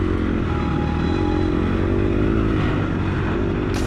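A dirt bike engine revs hard and continuously during a hare scramble race, running at high RPM with steady loud drone and some clatter, up close and without talk.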